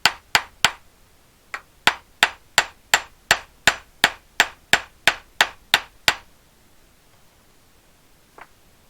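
A hammer peening over a fitting on a 1955 Triumph TR2 hub, striking about sixteen sharp, evenly spaced metallic blows close by, with a short pause after the first three, then silence and one faint knock.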